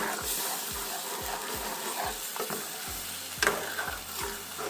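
A spoon scrapes around a pan in a steady, repeated rhythm, mixing gram-flour batter into kadhi over a soft sizzle of frying, close up, with no voices.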